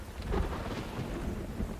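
A thunderstorm in the video game Myth of Empires rumbles with low thunder over steady heavy rain, loud and close throughout, with no speech.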